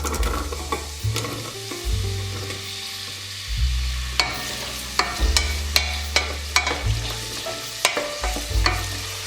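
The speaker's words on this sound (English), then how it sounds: "we add the celery, the carrots and the shallot that we have chopped before" Chopped celery, carrots and shallot sauté in olive oil over medium heat, a close steady sizzle punctuated by repeated sharp taps and scrapes of a utensil against the pan, no speech.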